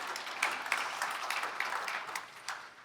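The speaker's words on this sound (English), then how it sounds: "I think that needs a little round of applause" Conference audience at a healthcare panel giving a brief round of applause, a moderate wash of clapping from a room full of people, fairly soft and steady before tapering.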